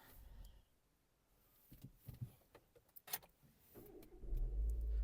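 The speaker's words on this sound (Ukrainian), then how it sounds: "Давайте запустимо двигун." Scattered clicks and clunks, then near the end a Renault Megane's engine cranks and catches, settling into a steady low rumble up close.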